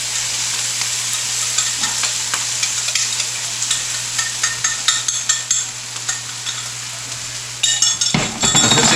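A moose meat creton mixture with cream and cornstarch is stirred in a pan, a dense continuous sizzle with quick clinks and scrapes of a utensil that grow busier toward the end, near and loud with a faint steady hum.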